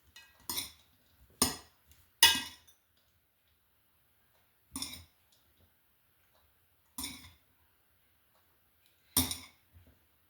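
Dishes and cutlery clink in a quiet kitchen as a small bowl is taken out, six or so sharp separate knocks and rattles spaced by silent gaps, close and fairly crisp.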